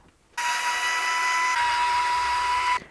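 A power screwdriver whirs steadily for about two and a half seconds, backing out screws from the suspension links of a Traxxas TRX-4 chassis kit, close and loud with no talk.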